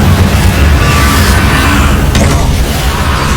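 A Confringo blasting curse explodes in Hogwarts Legacy: a loud, dense booming roar with heavy low rumble that fills the whole stretch, plus a brief crackling burst near the end. No voices are heard.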